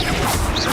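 Bombarda blasting spell in the Hogwarts Legacy video game, a short, loud, crashing burst with a whooshing edge that stays dense and full for under a second.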